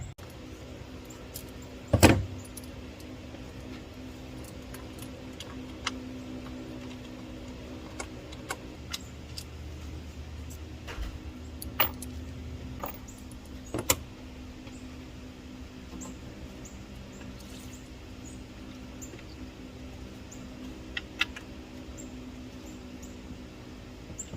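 A wrench works on a bolt during removal of the thermostat from a 2019 Ford F150 EcoBoost, giving sparse metallic clicks and ratchet ticks over faint background, one sharper clank near the start, with no speech.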